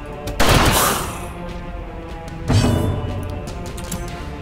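Grapeshot attack firing in the Darkest Dungeon game, set in the Ruins: two loud blasts, one near the start and another about two seconds later, each followed by a decaying rumble.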